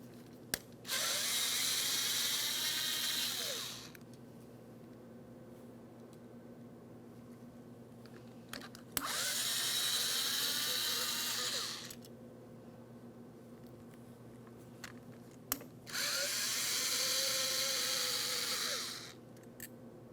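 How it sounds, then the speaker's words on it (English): A power driver removes three T25 Torx screws from the window regulator of a 2003-2008 Toyota Matrix in three separate high whirring bursts of about three seconds each, each ending in a click, with quiet pauses between. "You're going to find that you have 3 T25 Torx screws that need to be removed, then we can separate the 2."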